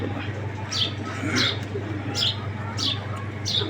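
Giribaz high flyer pigeons coo softly and repeatedly in a regular rhythm, several calls close by over a steady low background hum.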